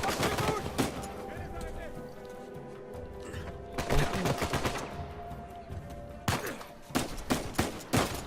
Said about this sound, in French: Qui c'est qui me tire dessus?